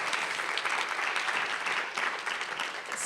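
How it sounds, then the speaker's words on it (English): An audience at a talk on a gender-equal future applauds, dense sustained clapping that fills the room steadily from start to finish with no voices over it. "Please give her a round of applause."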